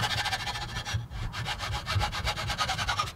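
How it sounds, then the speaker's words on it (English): A hacksaw cuts through a leftover piece of metal T-track, about 12 inches long, in steady back-and-forth strokes, a close rasping rhythm with a short pause partway through. "I'm just going to use a hacksaw and cut this piece in half."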